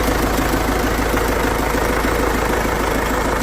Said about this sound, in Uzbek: Motor ovozini eshittiriblarmi va jim.